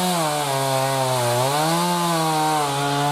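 Close, loud chainsaw cutting into a heavy lodgepole log, with the engine pitch dipping and rising as the chain bites the wood, continuous throughout with no talk.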